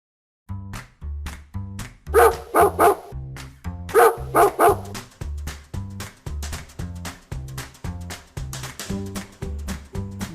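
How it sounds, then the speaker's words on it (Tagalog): A dog barks repeatedly in a steady run of loud, close woofs with a few higher yips mixed in, sounding alone with no talking. "Dog."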